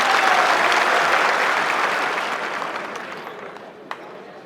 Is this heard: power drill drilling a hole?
no